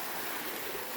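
Creek water flows steadily in the woods of Missouri, a continuous broadband rush and babble close by, with no voices over it.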